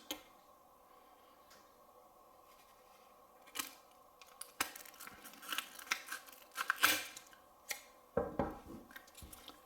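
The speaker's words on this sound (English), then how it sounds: "I'm going to take my scissors" Several quick crisp snips and crinkles of scissors trimming excess protective film from a polycarbonate lightsaber blade, close by, in irregular bursts after a quiet start.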